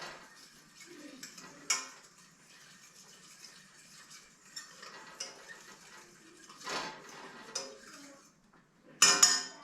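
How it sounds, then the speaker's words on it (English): A spoon scrapes garlic down the side of a cooking pot and stirs it in, producing intermittent metallic clinks and scrapes with a few sharper knocks, fairly close, no talking. "scrape in the garlic off the side of the pot. Get it mixed in here real well"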